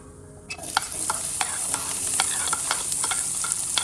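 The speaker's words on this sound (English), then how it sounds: "The pan is heated up, and here is some cumin seeds in there." Cumin seeds hit hot oil in a heated pan, bursting into a loud, close sizzle with crackling pops that continue steadily.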